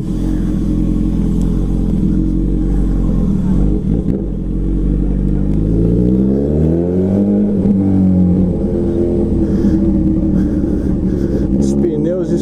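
A loud motorcycle engine drones continuously while riding, its pitch rising and falling as it accelerates, with wind rumble and a voice speaking over it.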